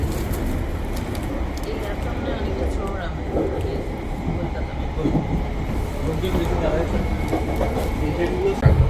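Inside a London Underground tube train carriage in motion, a steady low rumble and rattle of the car on the rails fills the whole stretch, with faint voices talking in the background.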